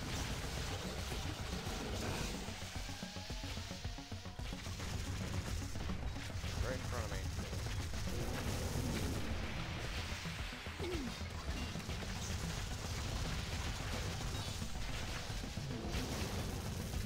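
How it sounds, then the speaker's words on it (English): Shotgun blasts in the Sanctum 2 video game, heavy crashing shots scattered through a busy firefight, fairly quiet overall, with gunfire and effects layered together and a voice talking over the action. "this shotgun feels amazing"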